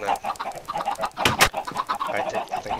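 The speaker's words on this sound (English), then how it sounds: "Plenty of chickens in there, I'm sure." Chickens in a Minecraft chicken farm give soft, repeated clucks and coos close by, joined by a brief louder burst in the middle of the game sounds.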